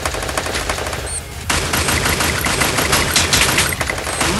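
Rapid bursts of automatic gunfire in a video game, loud and close, with a brief lull before a sustained rattling volley resumes.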